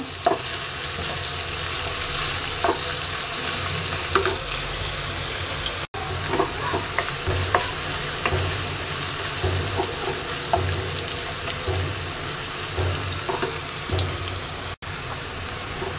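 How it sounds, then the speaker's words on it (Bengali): Chopped onion frying in a pan for a hilsa fish roe curry gives a steady, loud sizzle throughout, with occasional soft scrapes of stirring and no voices. "পেঁয়াজটাকে হালকা ভেজে নেব।"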